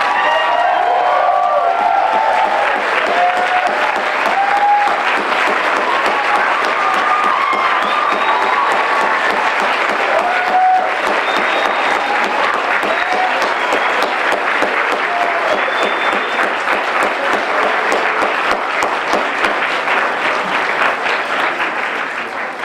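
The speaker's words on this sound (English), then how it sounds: "I think we all should give them an applause" Audience at a Wasatch Academy graduation ceremony applauding the faculty, loud sustained clapping from a large crowd with scattered cheers and whoops, holding steady for the full stretch.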